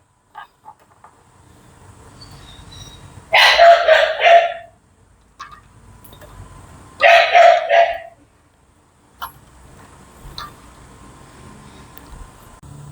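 Dogs bark loudly outdoors in two separate bursts of rapid barking a few seconds apart, with quieter single yips and faint ambient noise between them.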